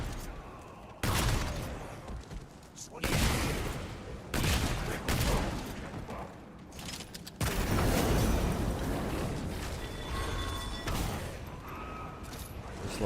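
Gunfire from the Fetid Wounds gun in Remnant 2, loud rapid volleys in several separate bursts with short gaps and mechanical clatter between them.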